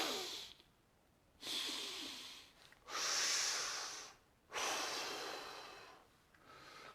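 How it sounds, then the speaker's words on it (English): Slow, close breaths through the nose, three long airy inhale-exhale cycles with quiet gaps between them. "breathing through the nose or mouth"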